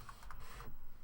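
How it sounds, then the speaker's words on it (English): Light computer keys tapped a few times in quick succession while an email address goes into a Google Classroom login, soft and close with a faint hum beneath. "I'm going to type in his username or his email address"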